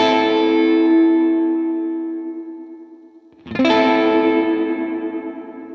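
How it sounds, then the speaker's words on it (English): A sustained guitar chord through a Line 6 Helix room reverb rings out and slowly decays in a wavering, shimmering tail, then a second strum starts another lush, modulated tail. "Do you hear the motion and the movement that is introduced into the reverb tails?"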